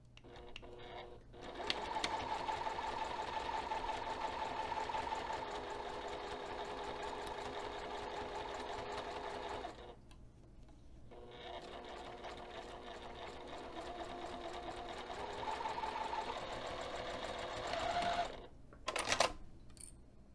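A domestic sewing machine running a regular 2.5 mm straight stitch along a bag seam, a steady close mechanical whir in two long runs separated by a brief pause, ending with a few short bursts.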